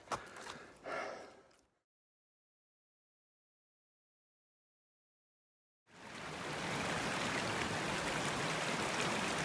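A mountain stream in Colorado rushes with a steady, broad roar that starts suddenly after a stretch of silence, preceded by a few breathy sighs.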